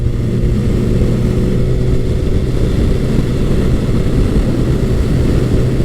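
A Honda CBR1100XX Blackbird motorcycle cruising at high speed in a stiff cross breeze, a constant loud roar of low engine drone and wind rush with no breaks.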